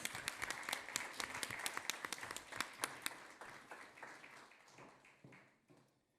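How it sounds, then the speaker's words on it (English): A small audience claps after a singing contest performance, a brisk scatter of hand claps that starts fairly lively and thins out, fading to a few last claps over about six seconds. "Let's have a round of applause."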